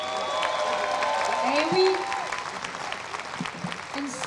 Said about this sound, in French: une bonne main d'applaudissements